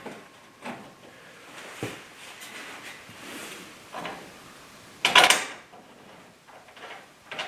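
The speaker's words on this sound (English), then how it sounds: "Put in the new roller, tip it to slide it in." A new roller is tipped and slid into a garage door track, giving soft sliding and knocking sounds, then a sharper metallic clatter near the middle, all close and fairly quiet.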